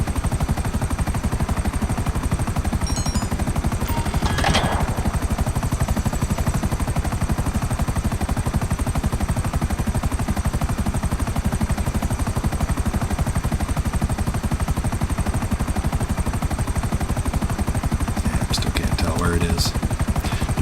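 A helicopter in the video game GTA 5 drones loudly and steadily for the whole stretch with a continuous rotor chop, and a few brief sharp clicks break through near the start and the end.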